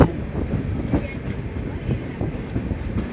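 Train at Hassan Junction railway station in Karnataka, a steady low rumble with faint clickety-clack of rolling wagons, fairly close and continuous with wind noise on the microphone.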